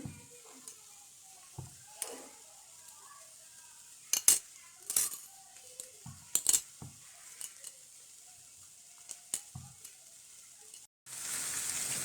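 Spices fry in a pan over a low flame, a soft sizzle broken by scattered metal clinks and scrapes of stirring, then a louder hiss at the very end.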